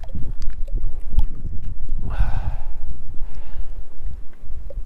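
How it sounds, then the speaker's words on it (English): Relentless gusting wind buffets the microphone at Cottonwood Lakes, a high mountain lake in the John Muir Wilderness, a loud continuous roar with a brief louder whoosh midway and no speech. "As you can see, the wind is pretty relentless."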